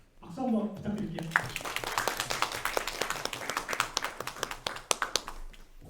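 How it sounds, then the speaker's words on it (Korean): A brief bit of Korean speech at a talk gives way to a round of audience applause, many hands clapping at once, steady and moderately loud for several seconds. "박수 한번 부탁드릴게요."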